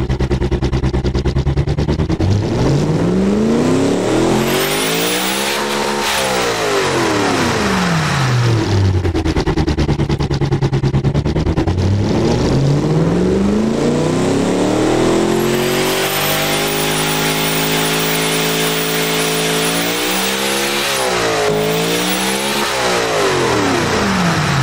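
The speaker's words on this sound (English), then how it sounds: "I'll show you the engine as is while doing some fake gear shifts for around like 45 seconds roughly" A V8 engine in the car tycoon game Automation revs loudly and continuously, climbing and dropping in pitch through repeated simulated gear shifts, sweeping up and falling back several times with no talk over it.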